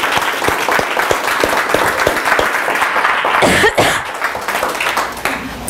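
An audience in a speaker-training session claps as a reluctant volunteer comes up to the front, a steady wash of clapping from many hands with a brief burst of louder noise partway through.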